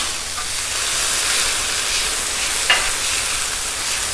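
Beef fried rice sizzles steadily on a Blackstone flat-top griddle set to medium-low heat, a constant close hiss of frying with a brief scrape of stirring partway through and no talking.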